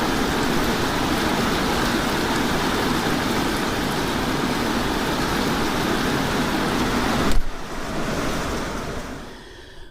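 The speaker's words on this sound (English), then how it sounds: "Man, is it raining." Heavy rain pours down outdoors during fuel line work on a vehicle, a loud, dense and steady roar that suddenly thins out near the end and fades away.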